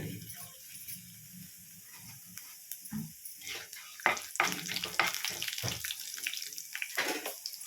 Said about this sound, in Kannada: ಕಡಲೆಬೇಳೆ, ಉದ್ದಿನಬೇಳೆ, ಮೆಂತ್ಯ ಹಾಕ್ತಾ ಇದ್ದೀನಿ. ಇವೆಲ್ಲ ಸ್ವಲ್ಪ ಬಾಡಿಸ್ಕೊಳ್ಳೋಣ.